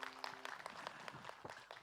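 A studio audience claps for a singer at an Islamic television program. The applause is faint and scattered, with sharp individual claps over a soft background.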